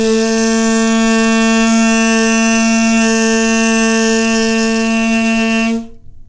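A beginner band lesson alto saxophone holds a single long G, fingered with three fingers. The tone is steady, bright and reedy, loud and close, and cuts off cleanly after about six seconds.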